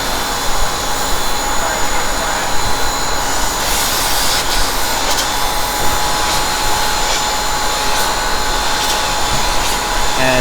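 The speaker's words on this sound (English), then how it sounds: "So now he's going to pressure wash it." A pressure washer blasts a screen during screen reclaiming, giving a loud, steady hiss of spraying water that runs unbroken throughout, with no talk over it.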